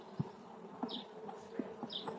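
Carniolan and Caucasian honey bees buzzing over hive frames during an inspection, a soft continuous hum with a few brief closer buzzes darting past.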